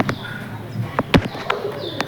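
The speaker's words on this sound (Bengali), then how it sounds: "আমাদের এই কবুতর ডাকটা দেখুন, মানে কতটা কড়া ডাক হলে একটা কবুতর এত পরিমাণ ডাক" A pigeon kept in a backyard loft gives soft, low cooing calls, a few short pulses close by, with faint background ambience.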